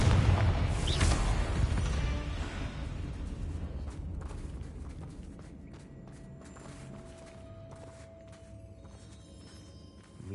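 A Confringo blasting curse bursts in Hogwarts Legacy: one loud close boom near the start, then a long rumbling decay under scattered game noises and footsteps.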